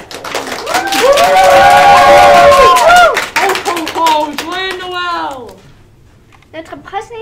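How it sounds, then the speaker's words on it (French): An audience at a French Christmas concert claps and cheers loudly for Santa Claus, with bursts of excited shouting and voices over dense clapping that fades after a few seconds into scattered calls. "je veux que vous applaudissons le seul et unique Père Noël!"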